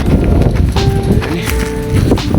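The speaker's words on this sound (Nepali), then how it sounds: "यहाँबाट देखिन्छ गाइस हावा यहाँ डेन्जर चलिरहेछ" Strong wind blows outdoors, a loud, blustery rumble buffeting the microphone throughout, with faint tonal sounds in the background.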